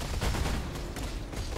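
Rapid explosions from Herald of Ash in the Path of Exile game, a dense, continuous crackling barrage of blasts heard loud and alone.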